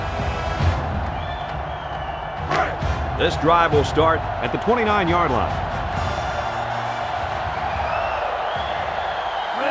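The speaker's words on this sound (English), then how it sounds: "This sellout crowd is really making a difference now as these guys can't even call the play." Stadium crowd from the NCAA Football 07 video game on PS2 rumbles steadily through the clip, a constant roar with swells, while a play-by-play commentator talks over it.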